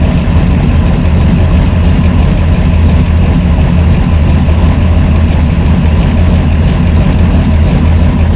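A car engine fitted with a Brawler 650 CFM double pumper mechanical carburetor idles loudly and steadily at close range, a deep even rumble with no revving or voices.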